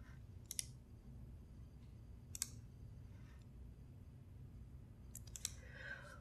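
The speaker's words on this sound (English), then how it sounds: "you can edit any file using Notepad++ by right-clicking it and selecting Edit with" Sharp, faint mouse clicks on a computer as a file is right-clicked, a few isolated quick clicks and double clicks spaced across several seconds over a quiet background hum.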